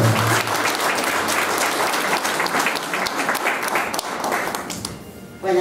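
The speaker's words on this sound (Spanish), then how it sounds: "Un voto de aplauso, por favor," A family crowd applauds at an engagement celebration, with dense steady clapping for about five seconds that thins and fades before a voice briefly begins.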